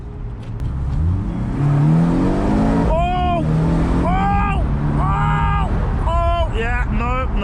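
A Porsche 718 convertible's engine roars hard under acceleration on the road, revving up loudly with rising tones, while someone shouts in surprise over it.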